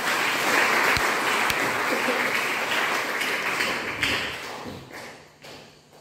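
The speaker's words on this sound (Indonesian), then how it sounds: "Kasih tepuk tangan untuk Tuhan." A church congregation applauds for God during a sermon, a steady broad patter of many hands with a few sharp taps standing out, tapering off toward the end.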